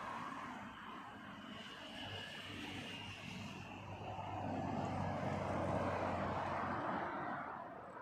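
An airliner landing at Heathrow Airport at sunset, its fairly distant engine rumble swelling gradually louder toward the middle and then easing slightly, with no voices.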